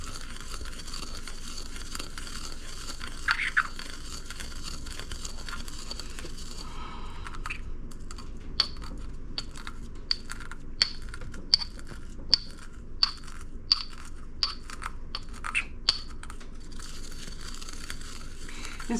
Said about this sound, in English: after grinding the coriander